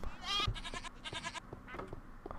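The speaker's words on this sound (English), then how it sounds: "Oh, there's goats up there I can recruit." Goats in Minecraft bleat several times in quick succession, short wavering nasal calls close by, with a faint low background hum between them.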